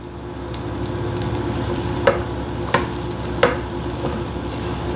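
Four tablespoons of unsalted butter melt in a skillet over a medium-high flame, giving a steady close sizzle broken by a few soft clinks.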